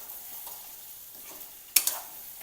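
Dry potato and capsicum curry is stirred in a pan, with a faint, soft background sizzle, gentle scraping throughout and one sharp utensil clink near the end, with no one speaking.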